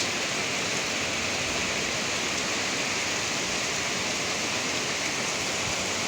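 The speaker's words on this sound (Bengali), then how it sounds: "সকালবেলা কীরকম বৃষ্টি পড়তেছে আপনারা দেখেন" Steady morning rain falling outdoors in a monsoon-like downpour, a constant dense hiss with no breaks, close and fairly loud throughout.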